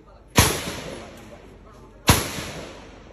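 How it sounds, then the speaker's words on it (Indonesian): Two sharp gunshots from a weapon being fired during a shooting session, each a loud crack with a short decaying tail, spaced about 1.7 seconds apart with quiet between them. "Akhirnya ikut nembak."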